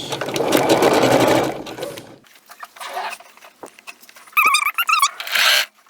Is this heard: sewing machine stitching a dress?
yes